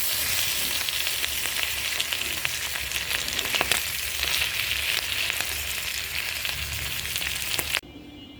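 Rohu fish roe seasoned with salt and turmeric fries in hot oil, giving a steady, close, loud sizzle with crackling pops that runs evenly and then drops away abruptly near the end.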